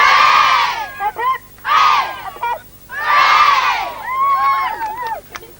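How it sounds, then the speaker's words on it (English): A crowd at a Gaelic football parish league final gives three loud cheers for the winners and losers, each a rising hooray with children's voices, punctuated by brief shouting between bursts. "So I'd like to give 3 cheers for the winners and the losers."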